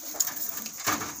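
Imported teddy pigeon cooing softly in short, low murmured phrases, close by and fairly quiet, with a slightly louder burst near the end.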